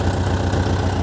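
Air-cooled engine of a VW Mexico Beetle running steadily up close, a dense continuous rumble with a slight rhythmic knock, loud and alone without talk.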